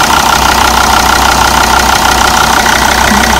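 A car engine idles steadily up close right after a quick start, following replacement of the antifreeze heater, running with a constant even rumble and no talking.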